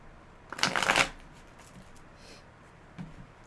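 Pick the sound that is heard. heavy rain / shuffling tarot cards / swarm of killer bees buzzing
shuffling tarot cards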